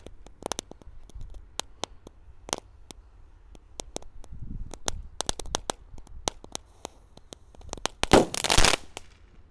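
Small Roman candle fireworks, size 0.8, set off at New Year: scattered sharp pops and crackles through the clip, ending in a louder burst of hissing crackle near the end, with no talk.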